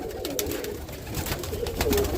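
Roller pigeon hens in a loft, low soft cooing murmurs running under a steady rustle of birds, with no talk.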